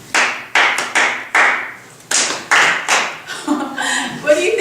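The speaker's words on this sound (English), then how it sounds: "when I do that little clapping sound" A teacher claps hands as a signal to a class, several sharp claps in short bursts, loud and close, followed by a few softer taps with a voice faintly underneath.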